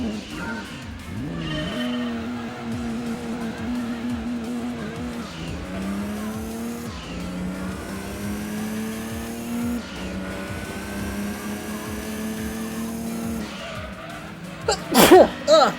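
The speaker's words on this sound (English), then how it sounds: "We've got a Supra and a Dodge Viper here." A Toyota Supra and a Dodge Viper race in the video game Gran Turismo 2. Engines whine and climb through repeated gear shifts, and a sharp burst of tire squeal rises near the end, with no talking.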